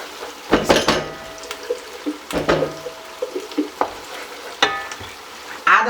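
Jollof rice pot in a home kitchen as a whole 500-gram bottle of tomato paste goes in: scraping spoon strokes and clunks against the pot over a low sizzle, with irregular knocks, near and moderately loud, no talking.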